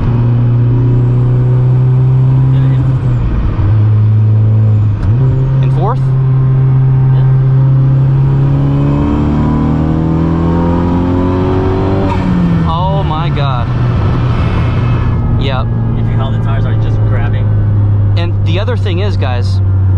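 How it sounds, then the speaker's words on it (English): Turbocharged 2021 Honda Civic Type R making about 547 wheel horsepower, engine droning steadily and rising through acceleration from inside the cabin, with shifts and turbo hiss, loud throughout while people talk over it. "I just gotta hear that turbo more"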